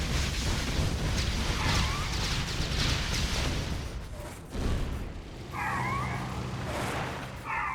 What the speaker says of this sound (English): 2 war factories and an ore refinery go down